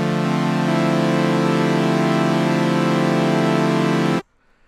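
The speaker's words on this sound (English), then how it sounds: "So we got two oscillators that are saw waves," A bright, buzzy synthesizer tone from two saw-wave oscillators holds one steady chord for about four seconds and then cuts off abruptly. No one speaks over it.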